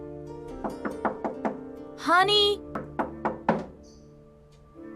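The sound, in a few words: knocking on a door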